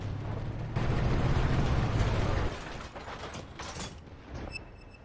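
Artillery in the video game Armored Warfare, a loud, dense rumbling roar of a shell firing and landing that cuts off sharply, followed by lighter mechanical clatter and a few clicks.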